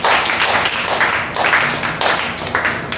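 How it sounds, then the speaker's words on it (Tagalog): A church congregation claps during a worship service, a loud, close burst of dense clapping in uneven surges, with no voices over it. "palakpakan po muna natin ang Panginoon"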